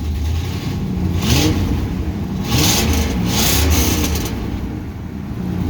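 A 1964 Ford Galaxie engine, already warm rather than cold-started, revs several times close up, its pitch climbing and falling in repeated swells over a steady running rumble.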